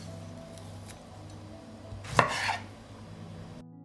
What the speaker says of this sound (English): I will cut the tomatoes into larger pieces